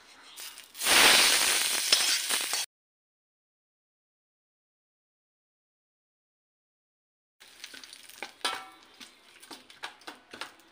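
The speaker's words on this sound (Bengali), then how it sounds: "দেখুন বন্ধুরা, এই তেলটা কিন্তু এখানে আমি এখন ঢেলে দেব।" Hot tempering oil poured over raw mango pachadi, giving a loud sharp sizzle burst that stops abruptly, then after silence softer crackling and popping with scattered clicks.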